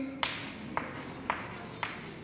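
A number being written out in expanded form in a fourth-grade maths lesson: four evenly spaced, short scratchy pen or chalk strokes over a steady low room hum, close and quiet, with no voices.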